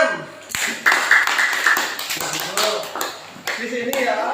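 A classroom of students claps for a classmate, a brisk burst of scattered hand claps filling the room, while a teacher's voice talks over and after the clapping.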